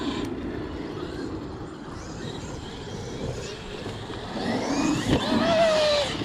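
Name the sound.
engine revving up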